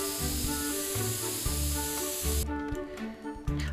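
Spray painting the ground in The Sims 3 produces a steady, bright hissing spray that runs for a couple of seconds and then stops, leaving soft background music with low thumping notes.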